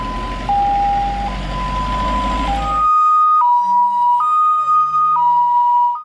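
A toy ambulance plays an electronic two-tone siren, stepping between high and low pitches in a steady alternating pattern, loud and close, over background rumble at first and then alone.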